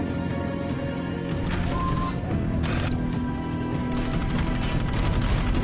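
Rapid bursts of gunfire crackle almost continuously, dense and loud, layered over a steady background of game sounds from the video game Dark Void.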